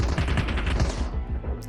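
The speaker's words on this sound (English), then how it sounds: "I'm being shot by other enemies here" Rapid automatic gunfire in the Call of Duty Mobile battle royale video game, a dense, loud, continuous burst of shots lasting under two seconds.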